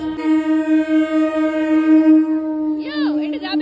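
A train horn blares at a station, one long steady tone that holds for about three seconds before a voice cuts in over its tail.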